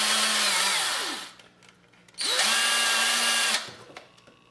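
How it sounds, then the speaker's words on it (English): A battery drill converted to run on mains power spins up twice in short, loud whirring bursts, each roughly a second or more, winding down between them, close and isolated in a quiet shop. "pushed it right in the drill to make sure that the connectors work"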